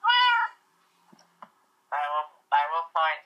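A cat meows in the video game Minecraft, four short clear in-game meows in an uneven pattern, the first alone and three more close together after a pause with small clicks between, loud and close.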